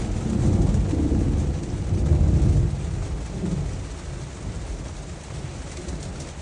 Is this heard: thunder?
yes